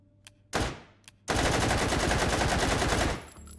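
In a video game, a machine gun fitted with an EOTech sight fires a short burst, then a longer sustained burst of rapid automatic shots, loud and close, ending abruptly.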